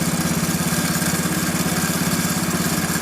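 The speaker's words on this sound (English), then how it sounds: "so we got the tractor running" A Bolens lawn tractor engine runs at a steady, chugging idle, its rapid regular pulses loud and close, with no talking over it.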